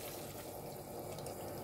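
Water pouring from a tap into a soup pot, a steady close rushing splash that continues throughout.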